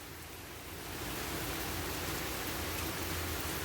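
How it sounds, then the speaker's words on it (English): Hard rain pouring outdoors in Georgia, a dense, steady hiss that swells slightly after the first second and holds loud and unbroken, with no voices. "now it's raining pretty hard"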